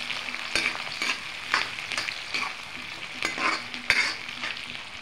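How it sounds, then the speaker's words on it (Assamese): Onion and bay leaves fry in a hot pan while a utensil stirs them, giving a steady close sizzle broken by repeated scraping clicks at an uneven rhythm. "এতিয়া ধুনীয়াকৈ লৰাই পেলাই অকণমান ভাজি ল'ম।"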